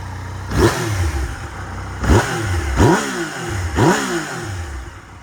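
A 2016 Yamaha MT-09 naked motorcycle, an 850 cc bike imported from Japan, revved hard four times while idling, each sharp blip rising and falling back in a loud, close burst with no talk.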